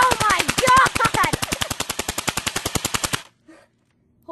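An automatic gun fires a rapid, evenly spaced burst of loud shots at an iPod, a few dozen close cracks in steady rhythm, then stops abruptly and leaves near silence.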